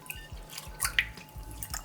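Rice grains rubbed and rinsed by hand in a bowl of water make soft, irregular drips and splashes close by, with light sloshing and no talking.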